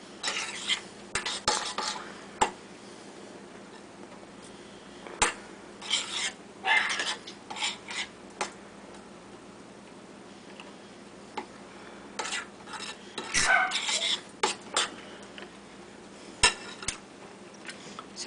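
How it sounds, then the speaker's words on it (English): A mixture is stirred in a bowl with a utensil, giving repeated close scraping and clinking strokes in uneven bursts, with quiet pauses between them. "You mix it well, so when you chill it, it's not all chunks of stuff everywhere."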